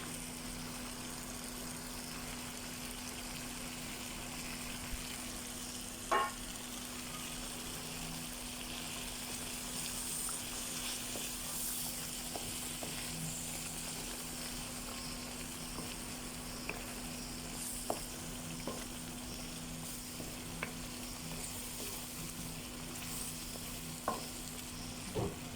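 Spices frying with two tablespoons of tomato paste in a kadhai, a faint continuous sizzle with occasional light taps of a spoon against the pan, heard alone and close.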